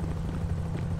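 A helicopter in Grand Theft Auto V gives a brief, continuous rotor drone, steady and moderately loud with a low throbbing hum.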